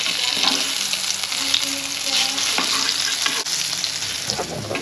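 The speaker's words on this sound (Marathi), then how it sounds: "छोटे छोटे काप करून घेतले आहेत वड्याचे. आणि शॅलो फ्राय करणार." Small pieces of masvadi shallow frying in a pan with a little oil, giving a steady close sizzle and crackle with occasional stirring scrapes, no talking.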